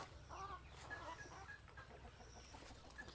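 Native chickens cluck in short, scattered calls over a steady low rumble of background noise, with no talking.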